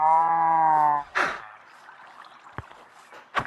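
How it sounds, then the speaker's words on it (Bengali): A cow gives one loud, close moo lasting about a second, followed by quiet farmyard rustling and a couple of brief knocks. "এখানে গরু আছে, এখানে গরু"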